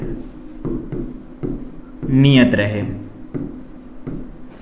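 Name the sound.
writing on a board during a lecture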